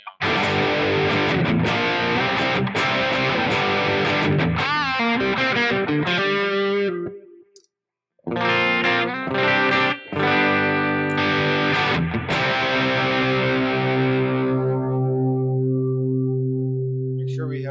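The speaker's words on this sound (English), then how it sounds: "now we can have a clean sound and a dirty sound" Electric guitar through a Line 6 HX Stomp with a distorted dirty tone, loud strummed chords and riffs, a brief silent gap midway, then a long ringing sustained chord fading out.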